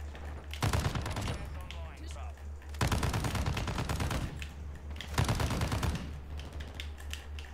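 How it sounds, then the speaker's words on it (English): Flame LMG machine gun in Modern Warfare 2 fires in three long rapid bursts, loud and close, with brief pauses between them and faint game sounds underneath. "Why is a flame LMG a thing, dude?"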